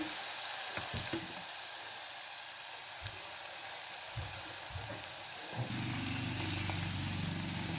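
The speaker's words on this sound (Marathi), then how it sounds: "हे सगळं व्यवस्थित तेलामध्ये परतवून घेऊया। सगळा मसाला व्यवस्थित भाजून घेऊया आता आपण।" Garlic and coconut masala paste frying in oil, a soft continuous sizzle close by with occasional knocks and scrapes from stirring, quiet and without voices.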